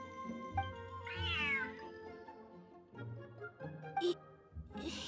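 A cat meows in the Genshin Impact Feline Fortress Furrdyssey event, with a rising, wavering cry near the start and a few shorter calls later, set over soft game music.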